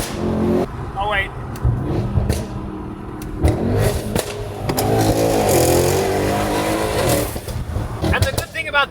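Mercedes-AMG E63 S with a full titanium exhaust and downpipes revving loudly with sustained engine roar and rising bursts, while people talk excitedly over it.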